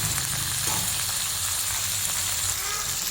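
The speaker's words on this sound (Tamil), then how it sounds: "கருவேப்பிலை, தேங்காய் எல்லாத்தையும் ஒரு 5 நிமிஷம் நல்லா வதக்கிக்கோங்க." Curry leaves and grated coconut sauté in a pan for a toor dal chutney, giving a steady, close frying sizzle with light stirring scrapes throughout and no talking.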